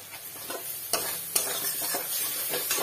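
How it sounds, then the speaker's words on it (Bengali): Garlic, ginger and spices fry in oil while being stirred for a Bengali silver fish curry with taro stems. Close, steady sizzling carries a few crisp spatula taps and scrapes, with no speech. "মশলা দিয়ে এটা কষিয়ে নিচ্ছি। মশলাটা লেগে যাবে, এবার মশলাটা ভালো করে কষিয়ে নেবো"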